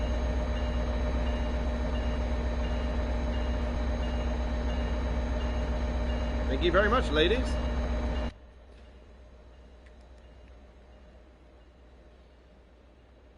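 Steady low rumble and hum of an idling passenger train in Train Sim World 2 on PS5, continuous and close, with a brief chirping tone near the end before it drops to a quiet hiss; someone speaks briefly over it.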